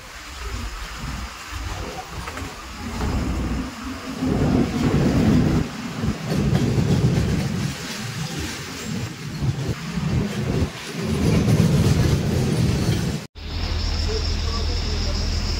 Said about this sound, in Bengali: একটা ট্রেন পাস করছে।